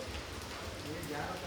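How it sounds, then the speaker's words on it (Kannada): Heavy rain pouring down outdoors: a dense, constant hiss and patter that holds steady and loud from start to finish. "ಎಷ್ಟು ಮಳೆ ಹುಯ್ತಾ ಇದೆ."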